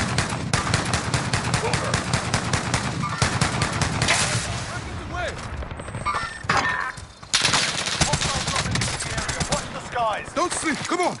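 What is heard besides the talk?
gunfire in a video game firefight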